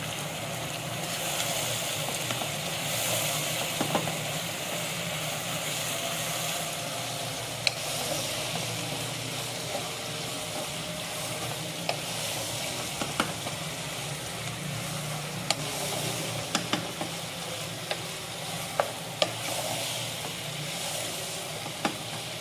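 Spiced zucchini being stirred in a frying pan gives a steady, close sizzle with soft scraping and occasional clicks of a spoon against the pan.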